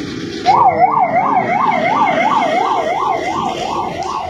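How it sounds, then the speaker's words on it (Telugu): A loud ambulance siren wails close by, its rising and falling tone repeating in a steady, even rhythm the whole time. "అంబులెన్స్ వస్తుంది ఇండ్లకి"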